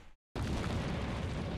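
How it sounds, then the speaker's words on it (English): A muffled explosion bursts out after a brief silence in the video game The Gray Garden, a sustained booming rumble that fills the rest of the moment at moderate loudness. "I heard some explosions"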